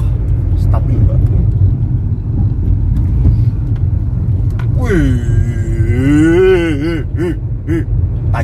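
A Proton Gen 2 Persona being driven through a turn, heard from inside as a steady, loud low rumble of engine and road, with a rising and falling whining tone toward the end and a voice now and then.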